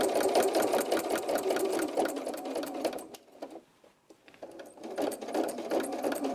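A sewing machine stitches baby shoe fabric across a thick double layer. The close, rapid mechanical whirr runs steadily, drops out briefly in the middle, then resumes.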